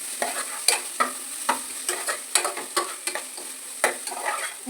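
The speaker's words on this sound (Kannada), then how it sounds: "ಈ ಥರ ಮಿಕ್ಸ್ ಮಾಡ್ಕೊಳ್ತೀನಿ ನೋಡಿ." A spoon scrapes and stirs chilli garlic paste frying in a pan, with rhythmic scraping strokes over a light sizzle, close and clear without talk.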